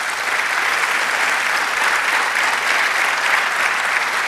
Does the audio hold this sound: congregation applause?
yes